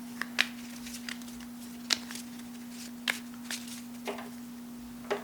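Cards handled during a solo tabletop session of the board game Goblivion: a few brief, soft papery flicks and snaps spaced irregularly over a quiet room with a steady low hum, no talking.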